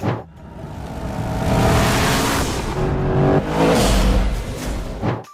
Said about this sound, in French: tu mets l'un des meilleurs coureurs du monde, Michael Schumacher, au volant et que tu le laisses conduire cette voiture dans un tunnel